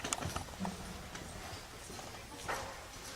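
A horse's hooves thud softly around an arena at a Charmayne James riding clinic in Winona, Minnesota, faint irregular footfalls against a quiet, roomy background.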